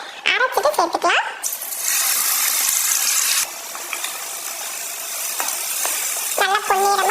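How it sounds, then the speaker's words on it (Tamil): Ground shallot paste sizzling as it sautés in a pan with curry leaves, a steady frying hiss filling most of the stretch, with a person talking briefly at the start and end. "நல்லா பொன்னிறமா வதக்கலாம்."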